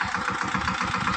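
A mini tractor's engine runs steadily on a village farm, a continuous mid-range drone with a low, regular pulsing throb and no voices.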